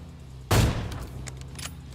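A single sniper rifle no-scope shot in PUBG Mobile cracks out sharply and loudly, then rings off in a decaying echo tail with a few faint clicks afterward.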